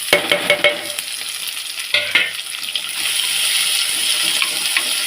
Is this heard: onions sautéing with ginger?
yes